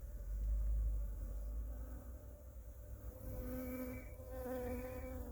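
Honeybees buzzing around a hive on a February day, a continuous close droning hum with several tones shifting as bees pass near, no talking.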